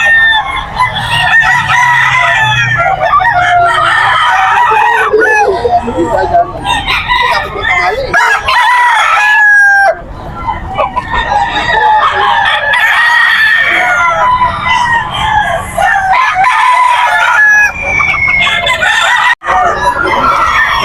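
White Kelso stag roosters crow repeatedly at a busy pet market, several loud overlapping cock-a-doodle-doo calls rising and falling over about twenty seconds, with clucking and market chatter underneath.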